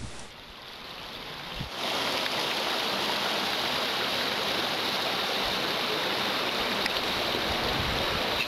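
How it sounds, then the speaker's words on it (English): Creek water rushing over cascading waterfalls in a canyon near Monte LaSal National Forest, a loud, steady broadband roar that swells in after a quieter opening and holds constant to the end. "We find cascading waterfalls on our way into the canyon."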